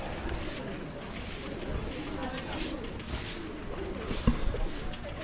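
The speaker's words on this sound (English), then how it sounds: "Lots of pigeons." Pigeons coo softly in a crowd at Swoyambhu, the monkey temple in Kathmandu, their low murmur half buried beneath the steady background chatter and bustle of visitors.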